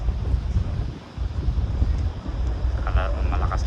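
Strong wind buffets the microphone at the Port of Tampa, Florida, with a constant low roar, gusting unevenly, with faint higher sounds near the end.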